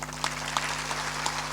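A religious discourse audience claps briefly, a short burst of applause from a gathered crowd in a hall, with a steady background hum.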